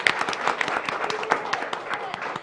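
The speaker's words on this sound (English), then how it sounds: "I want to give you two a round of applause to begin" Applause from the audience at a city commission meeting, a dense patter of clapping with a few sharper hand claps standing out, steady and moderately loud for the whole stretch.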